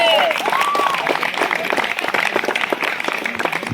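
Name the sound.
audience applause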